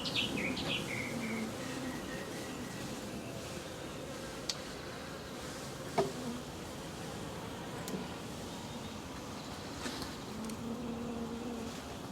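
Honey bees buzz continuously up close at a hive, a steady drone with a few faint clicks and distant bird chirps in the background.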